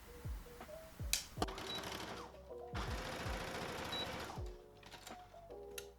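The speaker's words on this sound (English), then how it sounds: "So right now I'm just going to be sewing them together down one of their sides to make them into one long piece." A sewing machine runs in several bursts, rattling rapidly as it stitches fabric strips together along one side, with brief pauses and clicks between runs, close by and without talk.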